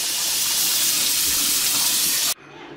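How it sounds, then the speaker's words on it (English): Cold tap water runs steadily over frozen shrimp in a kitchen sink to thaw them, a loud, even splashing rush that stops abruptly near the end, leaving a quiet room. "I'm going to run them under a cold bath to get them unfrozen."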